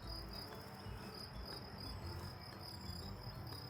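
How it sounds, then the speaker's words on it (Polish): Crickets chirping in a steady, high-pitched pulsing chorus on a mountain trail in the Beskids, continuous and fairly faint, with no talking. "Świerszcze zaczynają grać."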